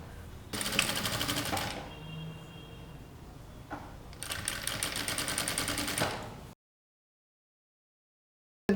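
Sewing machine stitching two joined pieces of piping, two bursts of rapid, rattling mechanical stitching separated by a quieter pause, close and clear, then silence.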